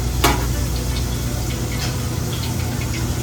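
Butter sizzling steadily in a pan as a gravy roux is started, a constant close frying crackle with a brief sharper pop near the start and no voices.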